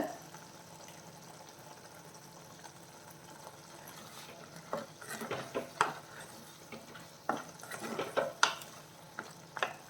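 Crab roast fries in a pan with a soft sizzle as a spoon stirs it, scraping and clinking against the metal in an irregular rhythm that grows busier and louder partway through.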